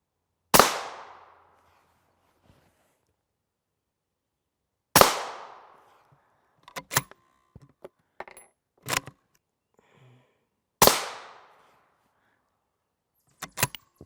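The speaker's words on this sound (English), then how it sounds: "Our shots of our full power M193 from the 22-inch, number 1, 2, and 3." Full-power M193 rifle rounds from a 22-inch barrel strike an armor plate. Three sharp, loud cracks land about five seconds apart, each with a short decaying tail, and quieter clicks and knocks fill the gaps between them.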